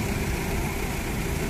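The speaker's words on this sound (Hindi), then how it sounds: "चल भाई स्टार्ट करो ट्रैक्टर" A tractor engine idles during sugarcane loading on a busy road, giving a loud, steady low diesel rumble that runs throughout with no talk.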